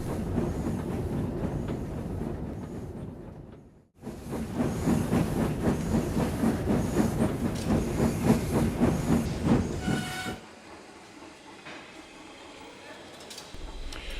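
Steam engine hauling squealing, grumbling coaches into a station: loud rhythmic chuffing with hiss and rattle under a narrator's voice, breaking off briefly and then fading to a quieter rumble.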